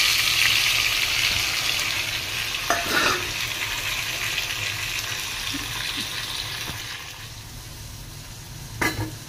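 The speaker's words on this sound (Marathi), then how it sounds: "हे बघा, मी कांदा आणि टमाटर सोडते." Onion and tomato frying in a hot pan, a loud steady sizzle up close that eases slightly over time, with a few sharp stirring knocks, no talking.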